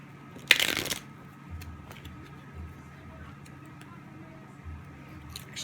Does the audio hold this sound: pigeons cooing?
no